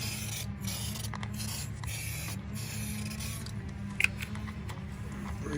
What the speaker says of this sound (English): Oh, brake cleaner, that's good